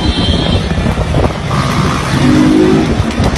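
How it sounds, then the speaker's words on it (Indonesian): Motor vehicle engine rumbling steadily at close range, a motorcycle ridden in an anime zombie story, with loud broadband road noise and brief tonal sounds layered over it. "Kemudian Takashi mulai melanjutkan perjalanannya bersama Rei dengan sebuah motor yang ia temukan."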